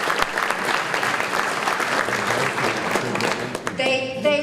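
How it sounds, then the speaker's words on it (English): An audience at a high school alumni hall of fame banquet applauds, steady dense clapping that fills the room and stays fairly loud, with a voice starting up near the end. "Give them a big round of applause."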